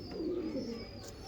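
A pigeon kept for breeding coos softly and steadily at close range in a low, throaty warble, with no talking over it.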